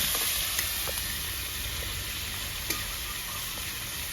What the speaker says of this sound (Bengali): এগেসং টমেটোটাও ভাজা হয়ে গিয়েছে